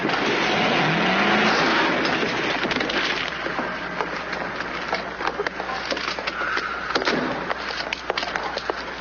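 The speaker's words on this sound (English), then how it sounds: "Pretty reckless driving." Car engine roaring and revving as a vehicle is driven recklessly in an old Hollywood film scene, loud and continuous under dense background noise, without speech.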